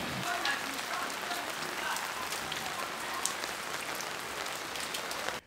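Heavy rain pours down on the Akébé-Poto district of Libreville, Gabon, a dense, steady patter of drops drumming on surfaces close by, with no talking.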